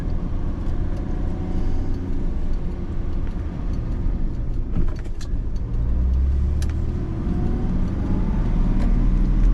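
A 1966 Mercedes 230S fin-tail pulls away in second gear, its mid-pitched engine a steady close drone that builds slightly toward the end, with road rumble underneath.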